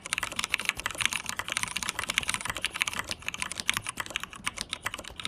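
Rapid, steady keystrokes clatter on a computer keyboard during a 15-second typing speed test, a dense run of close, light clicks heard alone with no talk.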